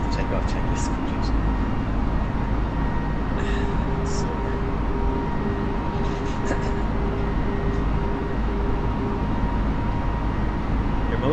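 A simulated Airbus A320 climbs after takeoff from Dublin in Microsoft Flight Simulator 2020, its engines a steady, dense roar and low rumble throughout, with someone talking over it.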